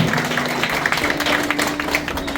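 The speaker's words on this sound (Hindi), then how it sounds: "हाँ, ताली बजनी चाहिए, तालियां बजते रहनी चाहिए" Crowd applause at a yearly meeting of a railway track maintainer cell, a steady dense patter of many hands clapping continuously, with a faint low hum beneath.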